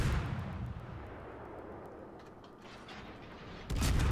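Naval gunfire from warships in a video game: a quiet rumbling backdrop with scattered faint cracks, ending in a sudden louder boom near the end.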